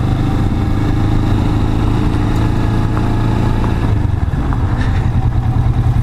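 Steady, loud engine drone of a Kawasaki Vulcan S motorcycle under way on a mountain ride, with wind and road rumble throughout and no talking.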